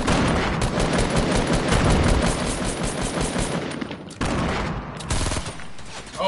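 Sustained automatic gunfire during a Fortnite battle, dense crackling bursts that rattle on nearly nonstop, with short breaks, loud and close, no voices over it.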